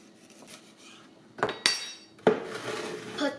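Knife blade striking a cutting board while slicing peeled ginger in a home kitchen, a few sharp separate chops after a quiet start, close and fairly crisp with no talk.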